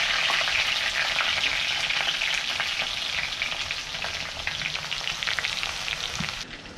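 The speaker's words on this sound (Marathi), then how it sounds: "लसूण टाकतो." Garlic and curry leaves frying in hot oil in a kadhai, a steady dense sizzle with scattered crackles and stirring sounds, close and loud throughout, no voices.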